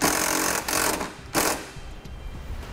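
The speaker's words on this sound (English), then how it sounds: "we'll be using a self-tapping screw that comes with the kit to install our ground" A drill drives a self-tapping screw with a 3/8 bit to fasten a ground wire during a trailer brake controller install on a 2012 Toyota, giving short loud whirring bursts with brief pauses between them.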